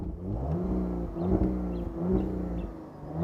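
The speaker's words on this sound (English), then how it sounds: "the sports exhaust does produce a nice meaty sound" Sports exhaust of an Audi RS4 Avant revving while parked, a meaty engine note rising and falling in repeated blips against a soft limiter, moderately loud and close.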